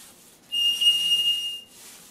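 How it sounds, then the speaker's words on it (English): A single clear, steady high whistle, like a cardinal's song, rings out for about a second in a quiet room during a kitchen remodel, then stops. "Sounds like a cardinal singing."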